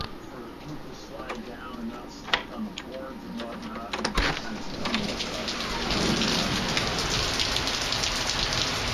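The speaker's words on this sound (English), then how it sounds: "It's raining outside." Steady rain falls outside, a continuous hiss of drops on surfaces that swells louder toward the end, with occasional distant rumbles and faint bird calls in the background.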